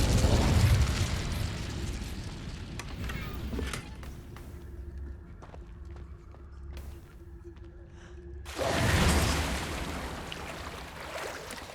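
A fire spell cast in a video game bursts with a roaring, explosive whoosh at the start, settles into a low rumble, then flares again with another fiery surge near the end.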